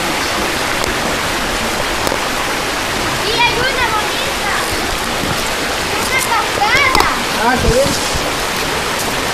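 A stream rushes through a ravine near a pool at Ojos de Agua, Chalatenango, El Salvador, a loud, continuous watery roar, with voices calling faintly over it in spots.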